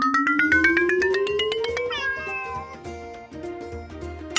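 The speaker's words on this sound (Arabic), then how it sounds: "أوه جيسون، هل هذه قطة؟ نعم، هذه قطة." A cat meows repeatedly in loud, rising and bending cries over a rhythmic musical backing, part of a children's toy police game.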